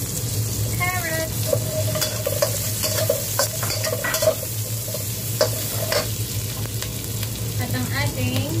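Carrot stir-frying in a hot pan for pansit canton, a loud steady sizzle with repeated scraping and stirring strokes, close and continuous with no talk.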